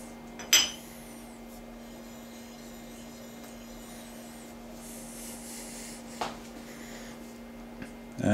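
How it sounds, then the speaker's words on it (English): Steady, soft rubbing of a metal straight edge blank against a flat reference surface to check its flatness, a continuous close scraping texture lasting several seconds, with a sharp knock near the start and a few light taps. "we'll check that by giving it a rub"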